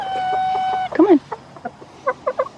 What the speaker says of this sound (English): all my other chickens are freaking out.